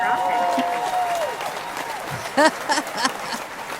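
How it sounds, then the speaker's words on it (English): Audience applause for Dr. Marissa Pei at a Mother's Day celebration: a soft patter of clapping runs under people talking, with a few sharper bursts of claps near the end. "I really do want to let's give her a little applause."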